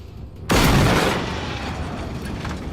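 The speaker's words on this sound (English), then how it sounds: "the explosions from them are just magnificent" A machine blows up in Generation Zero with a sudden heavy boom, then a long rumbling roar that slowly fades; loud and close, with no speech.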